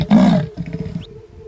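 A loud, close big cat roar, presented as a cheetah's, bursts out and then trails into lower rumbling growls that fade away.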